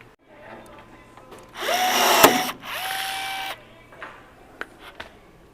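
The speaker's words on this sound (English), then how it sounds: "we'll put in a few rivets now" Rivets being set into an aluminium trim tab assembly for a Rans S-21 Outbound aircraft elevator: a couple of sustained whirring, buzzing bursts from a rivet tool, close and fairly loud, followed by a few light clicks.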